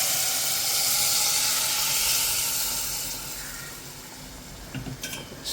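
Cooked dal poured into a hot tadka sets off a loud, steady sizzle and steam hiss that gradually settles, ending with a few light clinks of a utensil against the pan.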